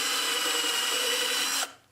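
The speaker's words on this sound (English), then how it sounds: "Now we'll drill the new end pin hole here with the same drill." A power drill bores a new end pin hole in a mandolin body during tailpiece alignment repair, a close, steady whine lasting about a second and a half before cutting off abruptly.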